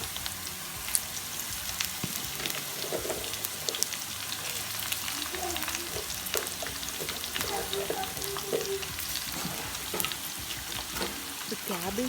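Onions, carrot, capsicum, beans and cabbage fry in a pan for vegetable fried rice, a steady dense sizzle and crackle running throughout, with occasional stirring clatter.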